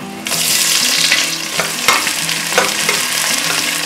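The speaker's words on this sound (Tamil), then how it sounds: "இப்போ வெங்காயத்தை போட்டுடலாம்." Onions dropped into hot oil for mutton pulao crackle into a loud, dense sizzle that holds steady, with a few stirring scrapes and clatters of a spoon.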